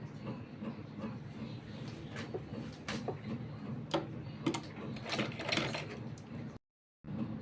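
A sewing machine stitches a small child's kurta, its needle mechanism running in a steady rapid clatter with sharper ticks, close and fairly quiet, stopping briefly near the end.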